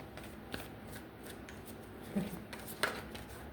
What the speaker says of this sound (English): We're going to shuffle this spread.